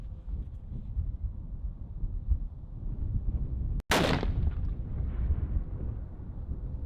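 A single loud, sharp long-range rifle shot at an extreme long-range shooting competition, cracking out over steady wind noise and trailing off in a rumbling echo.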